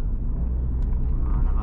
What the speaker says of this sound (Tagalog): Nakakasabay ko mga truck.